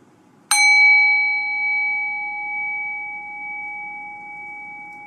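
A meditation bell struck once, its bright ring holding a steady tone that slowly decays over several seconds against a quiet background.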